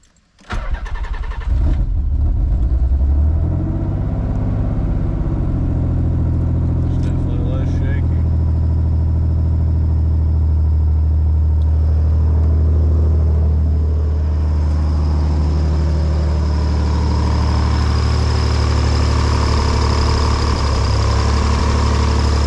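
A Nissan 300ZX engine, just fitted with a replaced injector, cranks and catches after a second or two, then settles into a loud, steady idle heard up close, with a few faint clicks early on.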